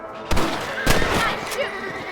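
John Marston's rifle cracks in Red Dead Redemption as he shoots rabbits: two loud, sharp shots with an echoing tail and a fainter third report, set over outdoor game ambience.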